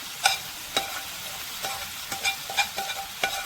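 Gooseberry curry with tamarind water stirred in a pan over low heat: a spoon scrapes and taps against the pan in uneven strokes, close by, over a faint sizzle and no talking.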